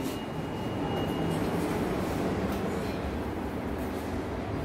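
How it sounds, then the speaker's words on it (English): Train rolling past nearby, a steady loud broadband rumble and roar that holds evenly throughout with no breaks. "Come on, goddamn train."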